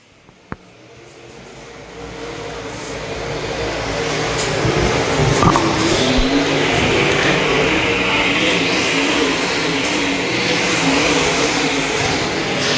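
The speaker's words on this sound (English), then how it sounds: "Here comes Blackburn as well in the 26" A-Mod race cars roar around the track in a qualifying heat, engine noise swelling from quiet to a loud, sustained drone as the pack passes and keeps circling.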